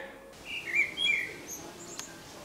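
A starling sings in short bright whistles and chirps, one clear burst near the start and another shortly after, then quieter calls over faint outdoor background.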